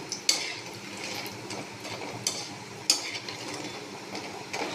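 Pointed gourd and vegetables frying lightly in a pan, a soft steady sizzle under repeated scraping and stirring, with occasional sharp clinks of a utensil against the metal pan.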